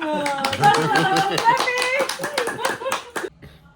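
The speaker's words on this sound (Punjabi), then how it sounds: "ਤਾੜੀਆਂ ਵਾਲਾ ਤਾੜੀਆਂ" A group claps hands in a quick, irregular patter of sharp slaps, close and fairly loud, mixed with children's and adults' voices chattering and laughing, dying away near the end.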